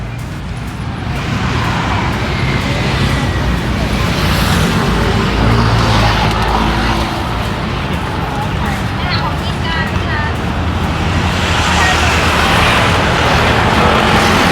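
Steady road traffic streams across the Phra Phuttha Yodfa Bridge in Bangkok, a continuous broad rumble of passing cars heard from the bridge, with a faint babble of voices beneath it.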